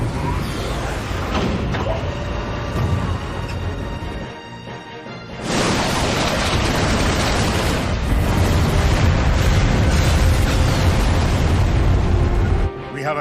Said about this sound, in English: Give word to the cannons.